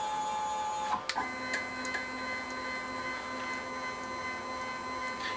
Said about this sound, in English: as you can see I can press a button and the machine starts to move